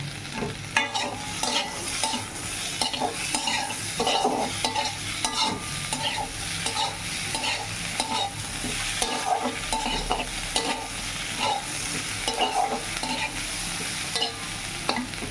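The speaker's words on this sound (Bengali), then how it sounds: "পটল আলু পেঁয়াজ ভাজাটা হয়ে গেছে এবারে আদা রসুন বাটাটা দিয়ে দেবো" Pointed gourd, potato and onion fry in a pan with ginger-garlic paste over a medium flame, a steady sizzle under rhythmic, repeated spatula stirring and scraping throughout.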